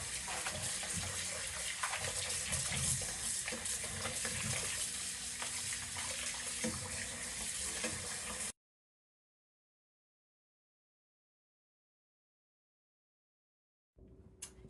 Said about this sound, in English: I am going to rinse this. And I'm going to use this to strain all my papaya